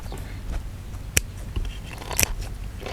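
Crispy grilled pork intestine gets bitten into, giving two sharp, crackling crunches about a second apart, close to the mouth, over a low background hum.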